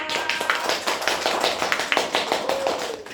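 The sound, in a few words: classroom applause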